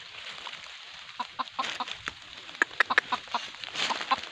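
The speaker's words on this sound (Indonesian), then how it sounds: "Ayam liar yang pikatan kita, semoga tidak keok." A wild junglefowl rooster clucks in short, sharp bursts, several calls scattered over a quiet outdoor acacia forest background with faint rustling.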